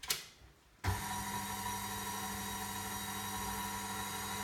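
An electric mixer fitted with a whisk attachment beats syllabub at low speed, switching on with a sudden start and then whirring steadily and evenly, loud and close, with no talk over it.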